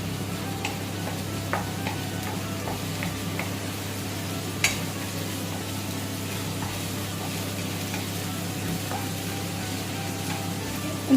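Ginger garlic paste frying in five tablespoons of groundnut oil with a little ghee, a soft continuous sizzle up close with scattered faint ticks and pops and one sharper tap partway through.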